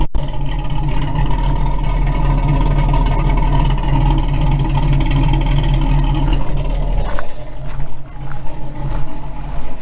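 An old car engine runs loud and close with a steady rumbling idle and a slight rise in revs, then its tone drops and roughens toward the end.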